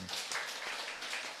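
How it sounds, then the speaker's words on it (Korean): Church congregation applauding after a closing prayer, a short, fairly soft burst of mixed clapping that carries evenly through the room. "우리 주님께 영광과 감사의 박수"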